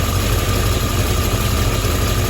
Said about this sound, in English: start the car and see if it's straight